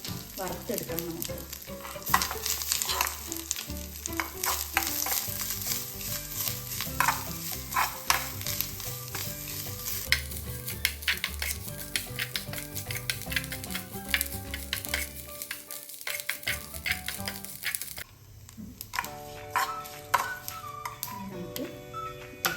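Dried red chillies and curry leaves frying in a pan for pumpkin erissery, a close, continuous sizzle under repeated spatula scrapes and taps, the crackle easing briefly near the end before picking up again, with no talking.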